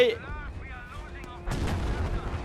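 A booming artillery impact in Battlefield V bursts out midway, followed by a rumbling, crackling tail; a faint chirpy sound precedes it.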